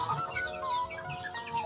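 A fighting rooster in a rural Indonesian village clucks and calls in soft, short bursts, faint and somewhat distant against outdoor background noise.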